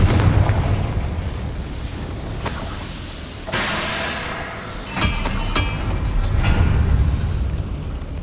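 Fire spell explosion from the video game Hogwarts Legacy, heard as loud booming blasts and crackling bursts over a dense rumbling battle background.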